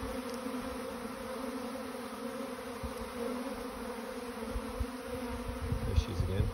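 A honeybee swarm leaving the hive makes a dense, steady buzzing drone, the hum filling the air close by with some louder rustling bumps near the end.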